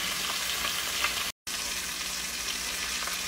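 Egg with cheese frying in a pan while being stirred, a steady close sizzle with faint scraping that continues on both sides of a momentary break.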